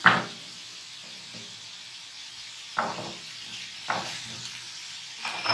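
Chopped onions frying gently in a pan over a low flame for a chana samosa filling, giving a soft, steady sizzle broken by a few brief scraping stirs.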